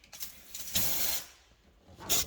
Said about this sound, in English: the steam will push the rubbish out of it